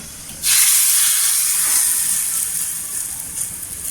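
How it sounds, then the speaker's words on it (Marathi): Hot oil tempering with mustard seeds poured over a green chilli garlic chutney, bursting into a sudden loud hiss that stays strong and close, then slowly eases. "त्याच्यामध्ये मोहरी टाकायची छान अशी तरतरली पाहिजे इथे आपण वरून आहे ना तेल टाकून घ्यायचं"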